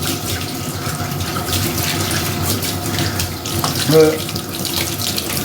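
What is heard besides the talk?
running water while bathing a dog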